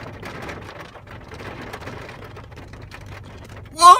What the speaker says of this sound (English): Hear that rain coming down? Heavy rain now.